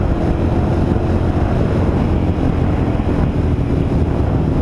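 Steady, heavy wind roars without pause along Highway 93 between Boulder and Golden, Colorado, a dense low rumble that stays loud for the whole stretch, with no voices.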